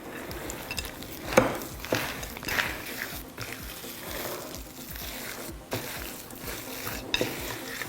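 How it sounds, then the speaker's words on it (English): A spatula works white chocolate chips and pistachios into cookie dough, making repeated soft scraping and thudding strokes against the bowl in an irregular rhythm, close and moderately quiet, with no voices. "Use a spatula to mix that all in."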